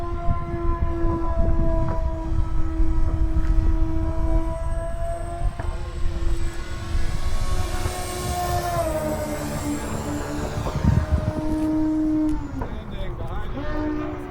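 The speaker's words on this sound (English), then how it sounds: "This is full throttle." An RC Flex Innovations Twin Otter 80E model plane flies at full throttle, its twin electric motors giving a loud, steady, high whine with shifting pitch that carries through the whole stretch.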